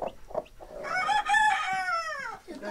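Excited broody hen calls, a rising drawn-out squawk with clucks around it, close and fairly loud.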